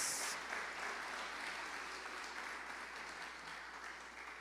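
A church congregation breaks into loud, dense applause, many hands clapping together in a sustained wash that fades slightly toward the end, with no speech over it.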